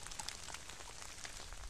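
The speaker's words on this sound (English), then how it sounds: "It started raining a little bit heavier." Rain falls on a poncho hood during a river hike, making a faint, steady, close patter of many small drops with no voices.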